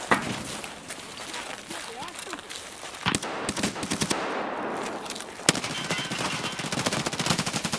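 Rapid automatic gunfire in Escape from Tarkov crackles in sharp bursts under excited players' voices, with several distinct volleys around the middle and end.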